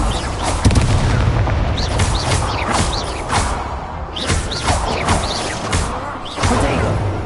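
Incendio fire spells cast repeatedly in Hogwarts Legacy during a wizard duel, loud bursts and whooshing blasts with booming impacts recurring every second or so over dense game combat noise.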